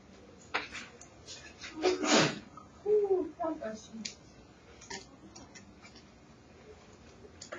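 A single sharp sneeze sounds near the middle, between quiet clicks and short voiced bits of speech indoors.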